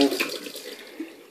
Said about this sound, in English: Now I'm filling water in it.